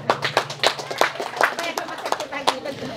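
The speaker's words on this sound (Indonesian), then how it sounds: "Tepuk tangan untuk Pak Franky." Scattered hand clapping from a small group in Medan, Indonesia, individual claps distinct and uneven, heard with people talking over them.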